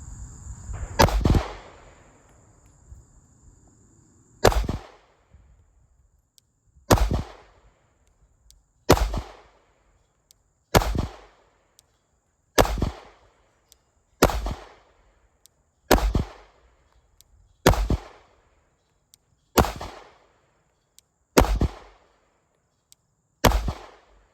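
A Glock 43X pistol firing 124 grain Blazer brass rounds, roughly a dozen sharp, loud single shots spaced at a steady rhythm of about two seconds, each ringing out with a short decay and no talking.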